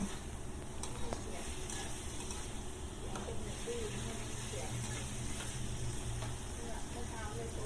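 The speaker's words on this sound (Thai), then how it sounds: "ผัดไปเรื่อย ๆ ค่ะ ตอนนี้หมูก็เริ่มสุกแล้ว" Pork stir-frying in a pan gives a steady sizzle with light scraping and stirring throughout, and a voice talks over it at moments.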